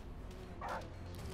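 A dog whimpers and yips in a South Park video game, a short whining burst rising briefly over steady game background noise.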